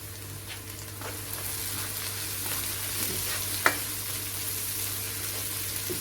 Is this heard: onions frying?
yes